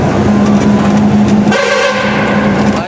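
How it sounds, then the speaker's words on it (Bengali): A truck's pressure horn blasts inside a road tunnel, a loud sustained tone that shifts pitch partway through, echoing over engine rumble with no talk. "এই গুফার ভেতরে গিয়ে প্রেসার হর্ন মারবো।"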